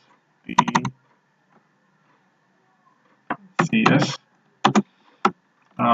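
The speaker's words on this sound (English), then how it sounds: "So I'm just typing here my name of my company." Company name being typed on a computer keyboard, short bursts of quick key clicks separated by pauses, close and clear with no talk over it.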